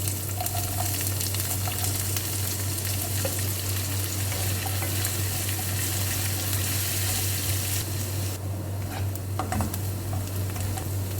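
Chopped onion sizzling loudly in hot oil with garlic and ginger while prawns fry roast is prepared, a dense continuous crackle close by with occasional stirring clatter, no voices.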